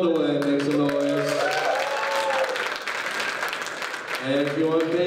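A comedy club open-mic crowd bursts into applause and cheering, dense and loud, with a voice speaking over it at the start and end.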